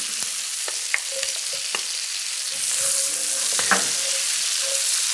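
Sliced garlic cloves sizzle in a hot pan for a steak au poivre sauce, a steady close crackle with scattered sharper pops and brief stirring clicks, growing a little louder halfway through, with no talking.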